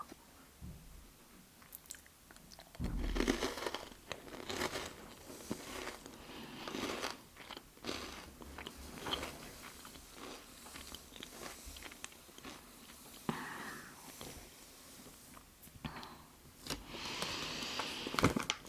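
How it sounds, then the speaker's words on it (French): Someone bites into and chews a salty, curly Slovenian snack with a crunchy chocolate centre, heard very close up. Crisp crunches and mouth sounds come in an irregular series over quiet room tone. "C'est salé, mais il y a un cœur en chocolat croquant dedans."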